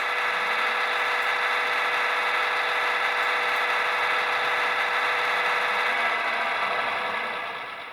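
Model railway locomotive's engine sound effect playing through a small speaker, a loud steady buzzing drone with a faint rattle that holds throughout, fading slightly at the end.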